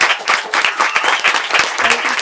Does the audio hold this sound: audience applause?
yes